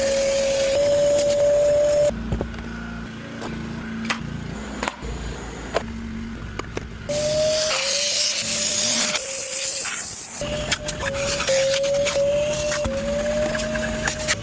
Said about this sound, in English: Vacuum and luxury carpet's the best